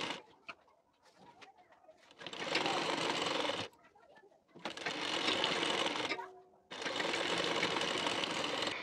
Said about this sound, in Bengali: তো এখন এই সেলাইটি দেখে নিন।